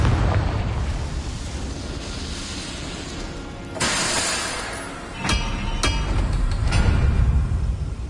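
Confringo explosion spell cast in Hogwarts Legacy: a rumbling roar swells into a loud burst, followed by a couple of sharp crackling pops and a lingering low rumble, close and with no talking.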